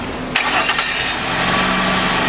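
A dead car engine cranks and catches after a jump start with jumper cables, a brief starter whir followed by a steady, loud idle heard close.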